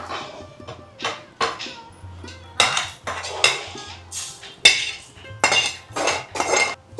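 Whole spices such as cloves, cinnamon and dried chillies being tipped onto a plate for Hubballi rice bath, a run of sharp clinks and rattles in quick bursts close by.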